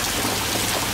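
Heavy rain pours down on a sailing boat in a harbor on the Trave, a dense, loud, continuous hiss of drops pattering on surfaces all around, with no voices.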